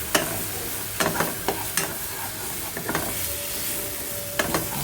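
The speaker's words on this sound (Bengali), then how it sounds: "তেলের মধ্যে জিরে তেজপাতা শুকনো লঙ্কা ফোড়ন দিয়ে" Cumin, bay leaf and dried chili tempering in hot oil, a loud, close, continuous sizzle with sharp spatters and stirring scrapes at irregular intervals.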